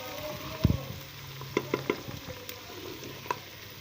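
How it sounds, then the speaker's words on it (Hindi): Tomatoes frying in a pan over a high flame for lauki dal give a quiet, steady sizzle, with a few soft clinks and stirring knocks scattered through it. "टमाटर ऐड कर देंगे। चूल्हे की आंच को थोड़ा तेज़ कर दूँगी तो ये जल्दी से ब्राउन हो जाए।"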